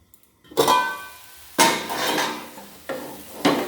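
A spatula scrapes and presses red amaranth greens in a metal pan, with three or four distinct metallic scraping strokes separated by brief pauses, close and clear.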